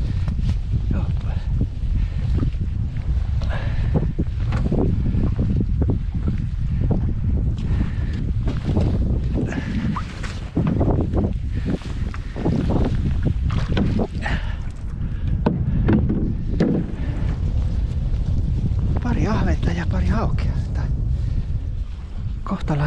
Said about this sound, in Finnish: On nyt kyllä kova tämä tuuli.